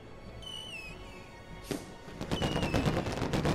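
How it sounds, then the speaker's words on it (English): Fireworks going off in the PS4 city-building game Big City Stories: rising whistles first, then a sharp burst followed by a dense run of crackling pops, moderately loud with no talk. "I'm just trying to look at the fireworks"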